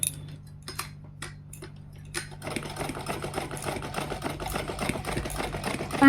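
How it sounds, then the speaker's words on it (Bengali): Hand-cranked domestic sewing machine stitching clothing at home: a few sparse taps at first, then a steady, busy rattling run of the needle mechanism, close and continuous to the end. "এটা হ্যান্ড মেশিন, হাত দিয়েই ঘোরাতে হয়"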